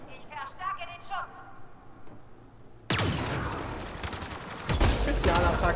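Gunfire in the video game Mass Effect Andromeda breaks out as a loud, dense burst of rapid shots after a stretch of voice, building into an even heavier volley near the end.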